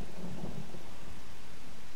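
Thunder rolls through a storm in the survival game 7 Days to Die, a loud low rumble that swells at the start and then fades under a steady hiss of rain.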